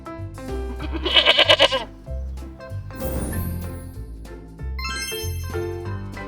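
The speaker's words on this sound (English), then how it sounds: "Goat." Goat bleating once in a loud, wavering, quavering call of under a second, close and clear over light background music, with no talking.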